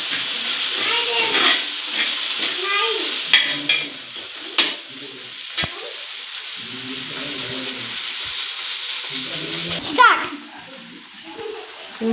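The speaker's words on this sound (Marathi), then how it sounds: "कांदा वगैरे टमाटर सर्व मस्त भाजलं." Onion and tomato frying in a pan for egg bhurji give a steady sizzle throughout, with occasional stirring clinks and scrapes, while someone talks over the cooking.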